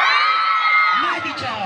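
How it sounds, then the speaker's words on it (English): A school intramurals crowd screams and cheers for a candidate, a loud, sustained roar of high-pitched young voices that swells and then fades slightly toward the end. "Let me hear you scream, Valiant Victors!"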